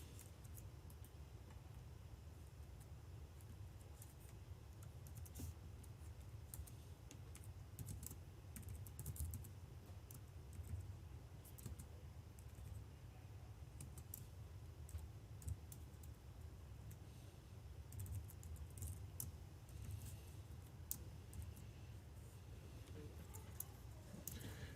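Steady, continuous clatter of computer keyboard keys as code is typed during a programming lecture on loops and lists, a quiet close-up patter of keystrokes running throughout with no talking.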